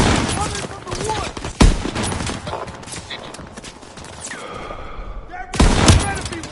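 Rapid bursts of gunfire crackle in a Call of Duty battle, with sharp loud shots and sustained automatic fire, voices shouting amid the chaos.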